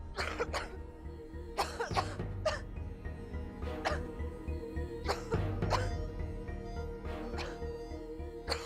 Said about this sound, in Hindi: मामूली सी खांसी तो थी